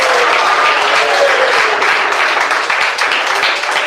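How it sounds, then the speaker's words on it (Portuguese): Church congregation clapping hands together during a lively Pentecostal service, a loud, dense and continuous wash of applause without a break across the short stretch. "Palmas bem alegres para Jesus."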